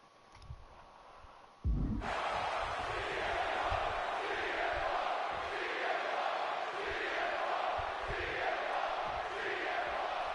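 A capacity crowd roars inside a wrestling arena in the video game WWE 2K26, a broad steady cheer that bursts in after a quieter opening and holds at full strength.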